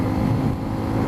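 Exhaust of a Honda XR150, a 150cc four-stroke single-cylinder motorcycle, thrumming steadily and loud up close in a short unbroken burst.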